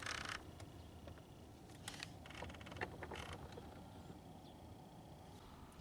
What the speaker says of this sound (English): We hear the door actually moving.